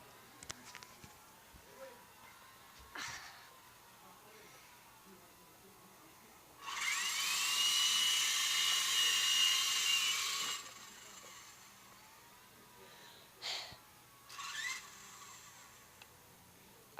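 A toy remote-control helicopter's motor whirs in a steady, fairly loud burst of about four seconds, set against a quiet background with a few brief clicks before and after.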